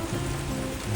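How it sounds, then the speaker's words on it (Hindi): Heavy rain falls in the UK, a dense, steady wash of noise with no pauses. "देख के इतनी बारिश हो रही है कि"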